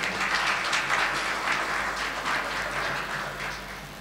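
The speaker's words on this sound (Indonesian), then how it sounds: "Tepuk tangan untuk beliau." An audience at an Islamic institute event applauds, a steady wash of clapping that swells and gently fades over a few seconds.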